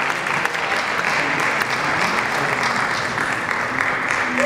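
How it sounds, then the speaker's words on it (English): Audience applause at an award ceremony, steady dense clapping from a large crowd running evenly throughout at strong volume. "Give a round of applause."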